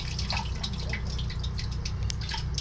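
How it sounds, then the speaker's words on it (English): Bathtub water draining through a blocked drain pipe, heard as steady trickling and dripping with a low rumbling flow underneath, continuous and fairly close. "turn the bathtub on."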